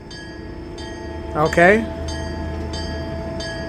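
A train station at 1 a.m. in a horror film gives a steady low rumble and a hum of electronic tones that repeat in a regular pattern, with a person's brief remark in the middle.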